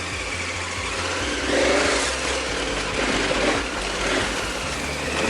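A KTM 1290 Super Adventure R motorcycle ridden in second gear on a dirt single trail, a continuous throbbing engine drone with gentle surges and rumbles, wind noise over it.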